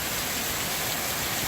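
Heavy pouring rain from a cloudburst in Pendleton, Indiana, a steady, dense broadband hiss of downpour that holds even and unbroken throughout, with no voices over it.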